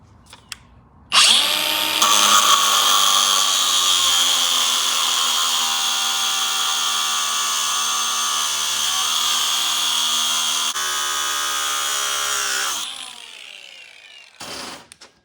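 Power tool cutting diagonally through a Nissan Titan axle bearing spacer, a loud steady high-pitched whine running about twelve seconds alone, starting abruptly and winding down at the end.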